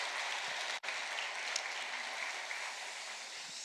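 A church congregation claps in a steady wash of applause, with a brief cutout near the start, sustained and moderately loud.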